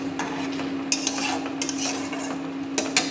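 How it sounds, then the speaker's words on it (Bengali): A spoon stirs a cornflour mixture into chicken Manchurian in a pan, with a few scraping strokes and light clinks over a constant low cooking hiss, close and with no talking. "নাড়িয়ে নেব।"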